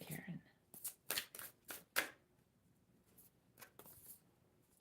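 Tarot cards shuffled for a reading, a run of quick crisp riffling bursts and soft card slaps, close and fairly quiet, with a brief voice at the start.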